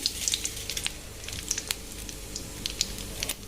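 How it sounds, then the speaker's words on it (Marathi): Cumin and mustard seeds sizzle and pop in hot oil in a small pan, a steady frying hiss dotted with sharp crackling spits, close and fairly quiet. "तेल छान गरम झाल्यावर जिरे आणि मोहरी टाकून घेऊया"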